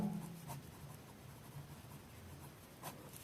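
A pen writing a chemistry formula by hand, faint scratchy strokes with a few brief louder marks over a quiet background, no speech.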